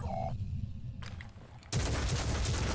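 Gunfire in the video game Phoenix Point, a loud sustained burst that cuts in sharply and dominates after a quieter stretch of background game sound, ending a headshot volley.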